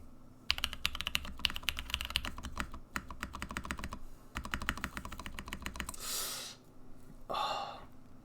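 Rapid typing on a rebuilt Mode Sonnet keyboard with aluminum plate and PBT keycaps, close and steady clacking in runs with brief pauses, ending in a couple of louder swishy strokes or breaths.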